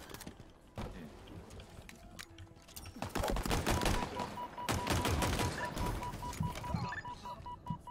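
The player's gun fires in a shooter video game: rapid bursts of sharp, clustered shots break out after a quieter start and continue densely, with a few scattered electronic tones over the gunfire.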